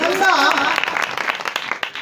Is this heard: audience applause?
yes